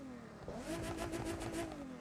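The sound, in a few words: inline engine car revving, video game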